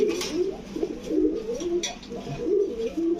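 Two deep red fancy pigeons coo steadily in low, rolling phrases that repeat through the whole stretch, close and clear with faint background noise.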